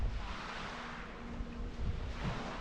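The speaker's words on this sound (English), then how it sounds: "Just listen to the sound of the little waves on the pebbles down there." Small waves wash over pebbles below a shore at Santa Ponsa, Mallorca, a soft continuous rushing hiss mixed with low wind rumble against the microphone.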